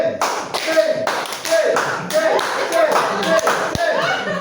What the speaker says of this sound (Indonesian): di antara pergantian tadi ada satu tepukan